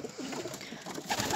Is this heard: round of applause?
no